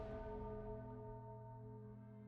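A single faint bell in a video game event hums with a sustained, ringing tone that slowly fades over a couple of seconds.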